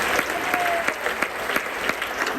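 Church congregation applauding together at a service, a steady dense patter of clapping with a few sharper claps standing out, close and fairly loud.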